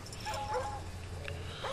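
Attack dogs in the Call of Duty Black Ops video game, heard as quiet yips and whimpering barks scattered over about two seconds above a low game-audio rumble.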